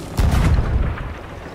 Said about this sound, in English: Get on the cannon, shoot him below the waterline